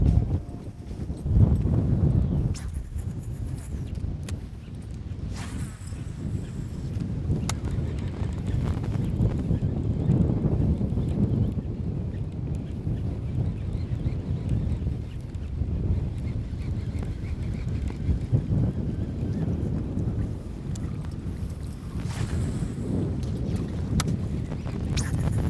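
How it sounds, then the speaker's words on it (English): Strong wind buffets a microphone on a fishing boat, a constant low rumble that surges and fades in gusts, with occasional knocks and splashes. "Wind is tough."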